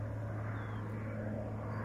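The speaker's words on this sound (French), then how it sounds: "il y a un avion, il passe juste au-dessus de nous," A low-flying propeller airplane passes directly overhead, giving a steady, loud engine drone that holds throughout with no voices over it.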